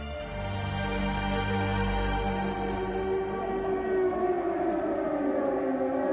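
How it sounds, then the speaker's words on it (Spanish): Air raid sirens wail an alarm over wartime Berlin, a loud sustained rising-and-falling tone that fills the whole stretch without pause, with no voices over it. "suenan las sirenas en señal de alarma en Berlín"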